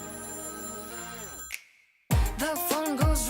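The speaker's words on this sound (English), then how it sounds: "The phone goes ring-a-ring" A telephone ringtone sounds within a synth-heavy played song, a sustained electronic tone that drops out briefly before the music returns with warbling ringing phrases.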